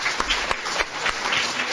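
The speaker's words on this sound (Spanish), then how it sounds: "un aplauso para Javier y para Sofía" Applause from an audience of school pupils at a Colegio Obradoiro radio event, a steady wash of clapping with a few sharper hand claps standing out, fairly close and filling the whole moment.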